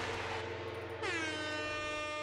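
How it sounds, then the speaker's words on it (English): An air horn blasts loud and sustained from about one second onward, its bright stacked harmonic tone holding steady to the end over a brief lead-in. "That is definitely worth a couple air horns."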